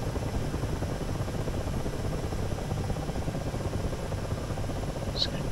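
A Ka-50 helicopter in the DCS flight simulator, taking off from a runway: a steady, dense rotor and engine roar holding even and loud throughout, with one brief high tone near the end.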